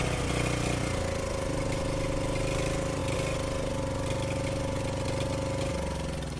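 A Huskey 1850 generator engine runs steadily after a tune-up, a continuous close mechanical drone with a constant hum and a faint knock, with no talk over it.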